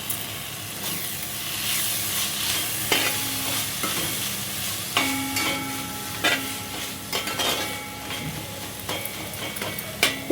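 Fresh coriander leaves stewing in an oil tempering for a leafy greens and liver curry make a soft continuous sizzle, with repeated scraping stirs and clinks of a ladle against the pan throughout.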